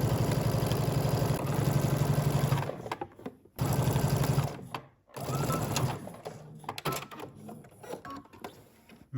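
Sewing machine stitches a cuff onto a sleeve with close, rapid mechanical whirring in bursts of a couple of seconds, broken by short pauses and handling noise, with no talking.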